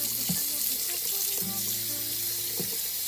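Cold water runs steadily from a kitchen tap into a sink while a raw chicken is being rinsed, a continuous hiss with a few soft clinks and bumps in the basin.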